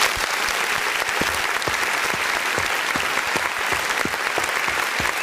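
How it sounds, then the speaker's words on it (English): An audience at a political talk show applauds steadily, a dense, continuous wash of many hands clapping at moderate distance with faint murmuring underneath. "Let's go ahead and give her a clap"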